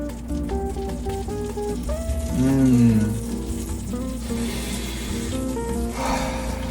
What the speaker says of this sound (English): That sizzle, that's what you want.